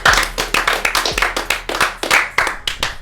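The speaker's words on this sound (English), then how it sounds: "round of applause for 1 year, baby." A small audience claps and snaps to mark a one-year, 52nd-episode podcast anniversary, giving close, loud, rhythmic rounds of hand claps of roughly even tempo for about three seconds, with no talking over them.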